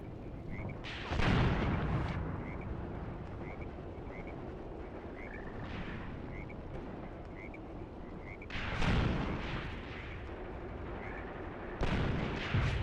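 Panzer V tank cannon fire in the Graviteam Tactics: Mius Front video game, set in the Belgorod-Kharkov fighting of 1943, gives three heavy booming shots spaced several seconds apart, over a low rumbling battlefield background with no talk.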